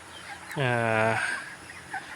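Young broiler chicks, 28 days old, on a poultry farm give a loud, close, drawn-out cheeping call lasting about half a second, with quiet barn ambience before and after and a faint chirp near the end.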